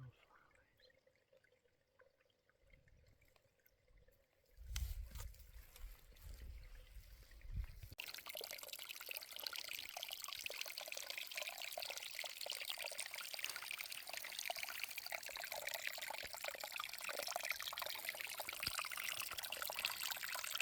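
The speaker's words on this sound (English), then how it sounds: "Here's the little trickle where I'm getting water to filter." Small trickle of spring water on a Pacific Crest Trail hike, quiet at first, then a short pour splashes in and gives way to a steady, close, continuous dribble.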